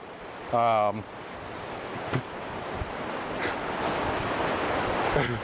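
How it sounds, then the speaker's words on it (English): Ocean waves break steadily on the shore in a constant, full wash of surf that builds slowly, with wind across the microphone and a brief unrelated tonal sound early on. "the waves are still here, and they always will be"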